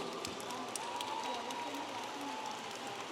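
An audience at a Texas A&M International University spring commencement gives graduates a steady round of applause, dense and sustained with faint crowd noise throughout.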